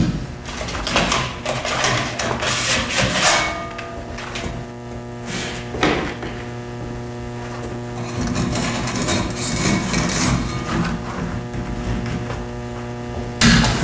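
A multi tool refinishing machine hums steadily with a loud motor drone while a golf club sole is sanded against its wheel or belt, with scratchy grinding bursts rising and falling as the metal is pressed on.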